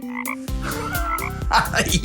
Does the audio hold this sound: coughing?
no